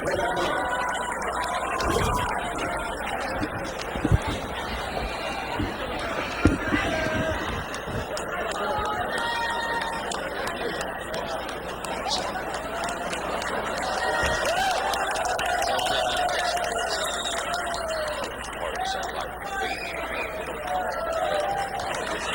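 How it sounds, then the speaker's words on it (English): Crowd noise at a boxing fight, a constant roar of cheering and chatter from a large audience, with a few sharp knocks and occasional voices rising over the din. "the crowd noise is drowning out"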